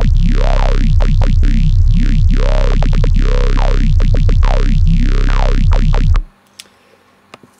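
A dubstep bass synth made in Native Instruments Massive plays loud, wobbling and sweeping sharply up and down in pitch in rhythmic waves for about six seconds before cutting off to near silence with a few faint clicks.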